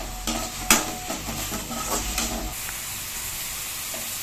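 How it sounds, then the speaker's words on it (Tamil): Onions and coriander sauté in a pan for a Tamil chicken kulambu, with a steady sizzle, stirring scrapes and a few sharp knocks of a spoon against the pan. "இந்த கொத்தமல்லி வெங்காயம்லாம் கொஞ்சம் பச்சை வாசனை போற வரைக்கும் வதக்கிட்டு அதுக்கப்புறம் தக்காளி சேர்த்துக்கலாம்"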